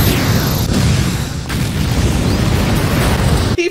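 A space cannon blast in a Tekken video game destroys the G Corporation's Millennium Tower, a loud, continuous roaring explosion with deep rumble that holds for a few seconds before cutting off abruptly.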